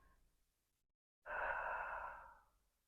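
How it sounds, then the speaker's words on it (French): A single long, breathy exhalation during a core exercise, loud and close, following a quiet pause after a faint earlier breath. "Inspire et expire."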